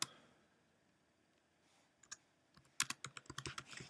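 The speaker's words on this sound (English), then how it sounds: "then I'm going to type something like this" Computer keyboard typing, a burst of quick, close, crisp key clicks starting after a quiet stretch and continuing to the end, with no talk.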